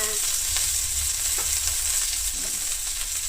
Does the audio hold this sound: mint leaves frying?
yes